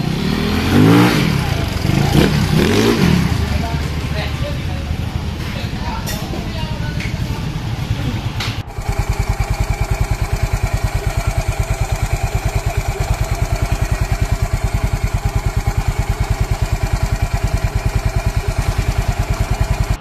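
A Yamaha Mio 160cc scooter with a racing CVT setup and aftermarket clutch revs hard in a few loud bursts up close, then settles into a steady, rhythmic idle that runs on evenly.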